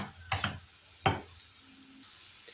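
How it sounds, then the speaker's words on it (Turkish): Beetroot sautéing in a pan gives a low, steady sizzle, broken by two bursts of stirring and scraping near the start and a faint clink near the end. "Toplamda 15 dakika kavuracağım."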